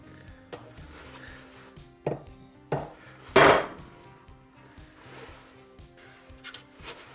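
A series of sharp metallic hammer strikes on a metal maker's mark stamp, a few spaced apart with the loudest blow near the middle, ringing briefly against a quiet background.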